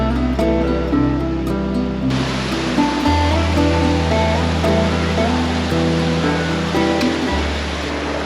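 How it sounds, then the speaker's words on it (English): Nang Lae waterfall in Chiang Rai, Thailand, its water pouring over huge rocks, gives a steady, dense roar of rushing water that holds unbroken throughout, with a tonal hum running beneath it. "look at this, the water coming over these huge rocks"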